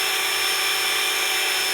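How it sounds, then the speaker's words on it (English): A power drill bores into the top of a thermal detonator holiday ornament, giving a steady, loud, continuous whine with a constant pitch and no pauses and no voices. "So I'm drilling right dead center on the top."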